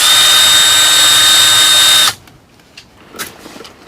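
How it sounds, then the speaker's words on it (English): A power drill whines loudly and steadily for about two seconds, drilling through a snowmobile seat bracket, then stops abruptly, followed by a few quiet clicks and handling sounds. "if you drill the hole the right size, you shouldn't need it"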